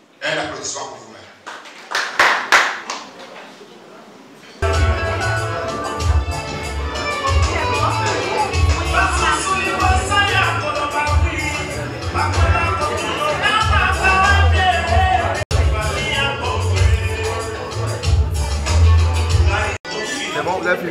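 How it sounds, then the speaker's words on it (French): Guests at a gala dinner at a beach hotel clap briefly and loudly at first. Then continuous music with a heavy bass beat and crowd chatter take over for the rest of the stretch. "Un applaudissement pour vous-même"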